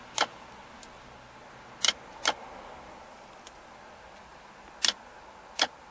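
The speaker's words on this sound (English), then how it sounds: "the solenoid is clicking when I bring power into it" A shifter lock solenoid on a 2004 Mazda 3 stuck in park clicks as power is applied, giving about six sharp, isolated clicks at irregular intervals against a quiet background.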